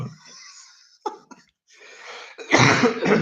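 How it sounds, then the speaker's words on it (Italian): Several coughs close up: a short throat-clearing at the start, a couple of brief hacks, then a louder burst of harsh coughing at the end. "c'ho ancora un po' di tosse"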